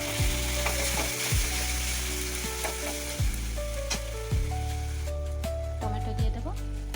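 Ground cumin, coriander, chili, turmeric and salt sizzle loudly in a pan with a splash of water, steady frying under repeated scraping and clanking of a metal spatula against the pan.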